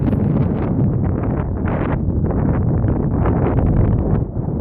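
Wind gusting steadily against the microphone outdoors at the Osceola ghost town, a loud, continuous broadband rush with fluttering buffeting and no talk.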